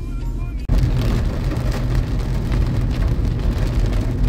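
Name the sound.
heavy rain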